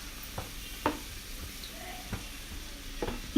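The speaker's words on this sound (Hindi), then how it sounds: "अब इस गैस को थोड़ी सी तेज करेंगे और इसको चलाएंगे।" Besan halwa being stirred in a pan over a gas flame, with soft spoon scrapes recurring every second or so over a low, steady sizzle, close and fairly quiet.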